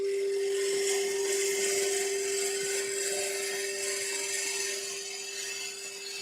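A wood lathe gouge makes a rough pull cut across a timber bowl blank while roughing it out, giving a loud, steady whirring hiss with a strong constant hum that runs alone the whole time and eases slightly toward the end.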